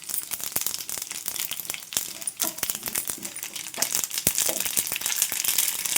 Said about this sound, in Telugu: చక్కగా చిటపట్లాడుతూ వేగిపోయాయి కదా